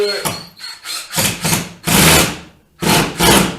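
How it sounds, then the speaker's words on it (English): A drill pre-drills holes into a wall stud for TV wall mount bolts, whirring loudly and up close in short repeated bursts with brief pauses between them. "I want to pre-drill my holes"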